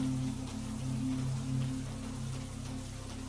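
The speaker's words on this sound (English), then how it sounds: "watching the rain, listening to its many layered sounds" Steady rain falling in a forest, a dense even patter of drops on leaves and ground with a low continuous hum beneath, no voices.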